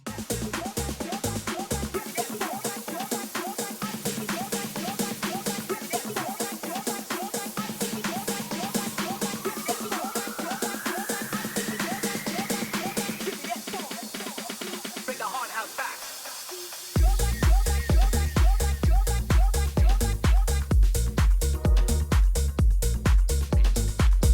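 Electronic dance track building with a rising sweep and rapid repeating beats, a brief thinning, then a heavy drop with pounding bass kicks.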